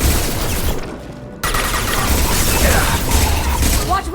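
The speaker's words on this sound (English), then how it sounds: "Watch where you're shooting!" Dense rapid gunfire and impacts in the video game Mass Effect 2, loud and continuous, with a brief dip before the shooting resumes over battle noise.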